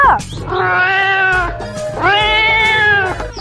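A cat gives two long, drawn-out meows in quick succession, loud and close, with a brief pause between them.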